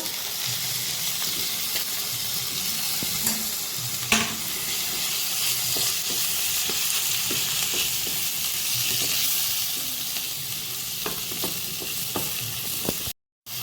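Chopped garlic frying in a pan until light brown for palak paneer, a steady close sizzle and crackle with occasional stirring scrapes, no talk.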